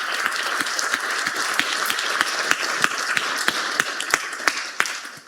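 An auditorium audience at the GEM Conference 2026 applauds the session speakers, steady close clapping with distinct sharp individual claps standing out, fading away at the end.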